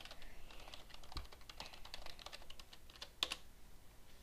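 A password being typed on a computer keyboard: quiet, fast, irregular key clicks run continuously for a few seconds, with one slightly louder tap near the end and no talking.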